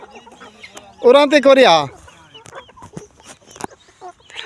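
A village rooster gives a loud, close burst of clucking calls, with people talking and scattered clicks and rustles around it.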